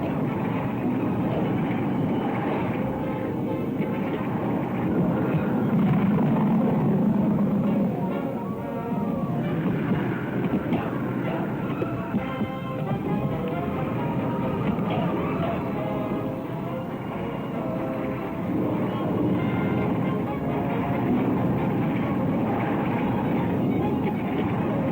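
A propeller airplane drones overhead at a steady moderate volume throughout, with voices talking beneath the continuous engine noise.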